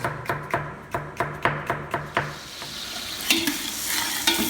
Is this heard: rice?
yes